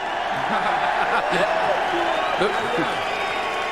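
A boxing arena crowd cheers for Lennox Lewis, a continuous roar with whoops, while someone talks over it.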